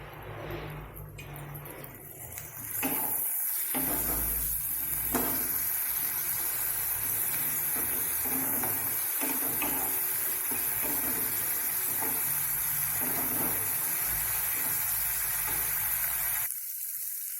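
Spice paste with coriander and chili powder and a splash of water cooks in a pan for a Bengali methi leaf dish, giving a steady, loud hiss and sizzle that starts after a few quiet seconds and runs unbroken to the end.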